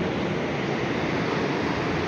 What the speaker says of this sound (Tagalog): Nakaabot yung alon.